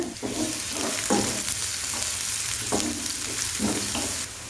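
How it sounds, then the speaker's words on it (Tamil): Garlic and onion frying in hot oil in a pan for a vermicelli breakfast dish, a steady close sizzle with repeated spoon-stirring scrapes throughout, no talking. "பூண்டு லைட்டாக வதங்கும் போதே ஒரு பாதி பெரிய வெங்காயத்தை அதில் சேர்த்துக்கலாம்"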